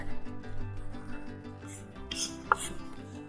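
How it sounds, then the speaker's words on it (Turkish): A knife chops rapidly on a board, a quick even run of close thuds over a low hum, with one sharper knock near the end. "4-5 bıçak darbesiyle iyice ufaltacağım."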